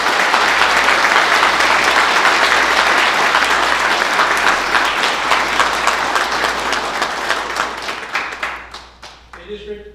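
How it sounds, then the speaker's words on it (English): An audience at an Army battalion commissioning ceremony applauds the cadre, a loud, dense wash of clapping from many hands that holds steady and then thins out and fades over the last couple of seconds. "let's do a round of applause for the cadre"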